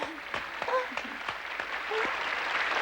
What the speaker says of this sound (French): Les applaudissements furent frénétiques, les bravos et les encore jaillissaient de toutes parts